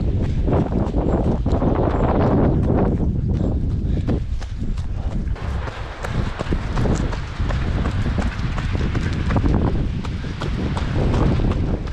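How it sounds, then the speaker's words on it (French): Strong wind buffeting the microphone on a Breton coastal trail, a loud continuous roar with gusting rumbles and footsteps crunching along the path throughout. "il y a un peu de vent par contre"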